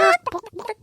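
A chicken gives a short burst of clucks, a loud squawking note followed by several quick, choppy clucks, close and alone with no talk.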